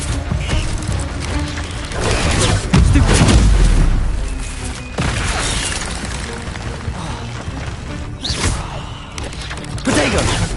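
Incendio fire spells are cast in Hogwarts Legacy combat, giving loud whooshing bursts and booming impacts amid continuous battle clatter, with one heavy blast near the middle and faint voice fragments in the mix.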